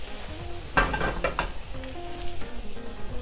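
Shrimp cook in a hot pan with a steady, close sizzle, joined by a few quick knocks and scrapes as the pieces are moved around.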